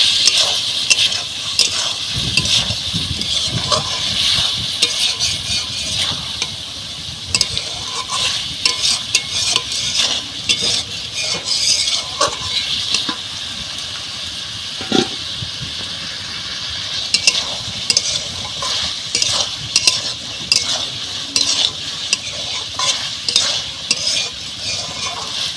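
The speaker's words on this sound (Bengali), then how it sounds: "বন্ধুরা তরকারিটা আমি খুব ভালোভাবে কষিয়ে নিয়েছি" Eel fish curry being stir-fried in a pan, a steady close sizzle broken up by frequent scraping and clinking of a spatula against metal throughout, with no talking.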